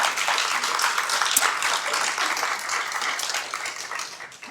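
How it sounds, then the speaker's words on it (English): Audience applause at an employee recognition ceremony, dense steady clapping from many hands filling the clip, then tapering off slightly at the end. "So a round of applause for them."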